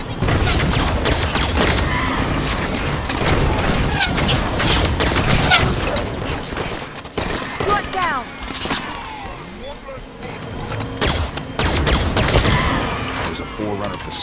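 Heavy gunfire in a Halo 5 battle at a Forerunner facility against the Covenant, dense volleys of shots and impacts rattling on nearly continuously and loudly, with occasional speech from the players.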